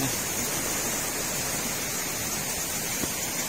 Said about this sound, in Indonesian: Jadi untuk di sana itu ini sungai, sepertinya aliran air sungai.